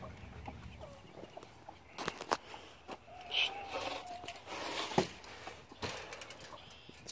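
Chickens cluck and squawk nearby in scattered bursts over quiet outdoor background noise.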